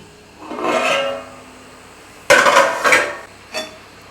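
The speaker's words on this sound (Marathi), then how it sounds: "आता आपण झाकण काढून बघूया" A metal lid is lifted off a pot of restaurant-style veg biryani: a soft scrape, then a sharp clanking clatter of metal on metal and a final lighter clink, close by.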